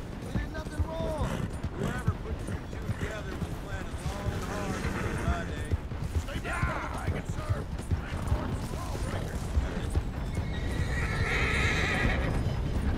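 In the Red Dead Redemption video game, a horse gallops with steady, rhythmic hoofbeats, occasional whinnies and neighs, and voices talking over the action throughout.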